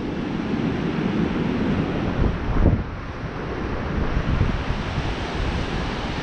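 Ocean breakers crash and wash over a reef at Lucky Bay beach in winter, a broad roaring surf with one stronger surge midway, heavily mixed with gusty wind buffeting the microphone.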